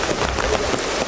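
Heavy rain pours down in a dense, unbroken roar of drops striking surfaces, steady and loud throughout.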